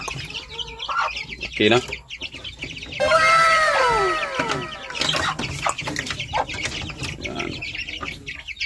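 One-month-old Dumpo line gamefowl chicks cluck and peep close by, with a burst of rising-falling chirps midway over a farm backdrop while someone speaks briefly.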